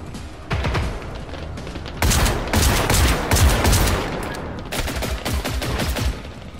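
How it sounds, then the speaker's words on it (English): Bursts of rapid gunfire crackle in the video game Generation Zero, several loud volleys with short pauses between them, close and dense, no speech. "Who's shooting at me?"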